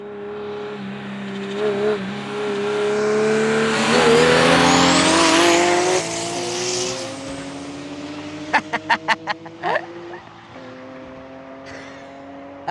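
A 600 hp BMW E34 drift car and a BMW M3 track car launch side by side in a drag race, engines roaring and rising through gears before fading into the distance, with sharp pops near the end.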